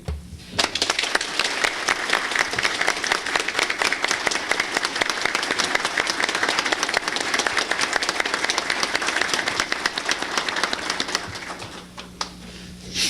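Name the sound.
audience applause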